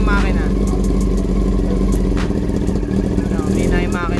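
A Yamaha R6 motorcycle engine idles steadily nearby during charging-system work on its wiring harness, a loud continuous hum, with a person talking over it.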